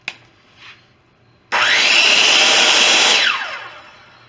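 A circular saw with an electric brake whines up sharply to a loud, steady high-pitched run for about two seconds, then winds down quickly to a stop, after a brief quiet click and shuffle.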